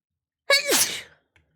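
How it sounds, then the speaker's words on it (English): A single sharp human sneeze bursts out close and loud after a moment of silence, followed by a faint trailing breath. "Too much sneezing."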